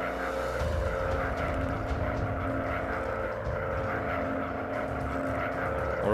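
Engine drone of a WW1 German fighter plane in the Warplanes WW1 Fighters VR game on Quest 2, a steady, loud propeller roar holding constant throughout with no talk over it.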